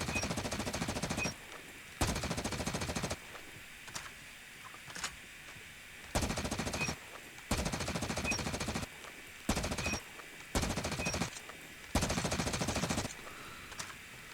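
An M16 rifle fires in the Call of Duty Mobile video game in loud, close bursts of rapid automatic fire, about nine bursts split by short pauses.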